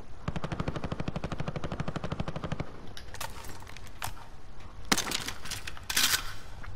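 Rapid automatic gunfire from the video game Warzone rattles off in a fast burst, followed by several louder single sharp shots spaced apart, with no talking.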